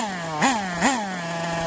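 A Hobao Pirate nitro RC car engine idles with a steady buzzing tone, then is blipped twice in quick succession, each rev rising sharply and falling back to idle; close and moderately loud, no voices.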